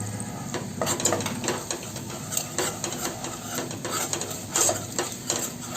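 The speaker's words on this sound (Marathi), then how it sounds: "यात आपला मसाला पण परतून झालेला आहे" A thick spice paste for Malvani chicken rassa sizzles and sputters in a pan over low heat, with repeated soft scraping strokes of a spoon, close and steady.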